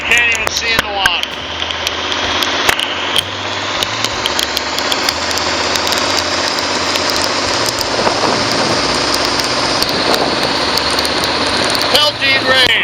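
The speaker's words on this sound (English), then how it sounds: "It's raining so hard you can't even see in the water." Heavy rain pelts a boat out on the water, a dense, loud hiss layered over an idling engine rumble, with a person talking at the start and end.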